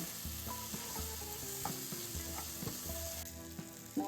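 Herbs and spices sautéing in a pan for a herbal mooligai rasam, a faint, continuous sizzle with soft scraping stirs, mixed with background music and no voices.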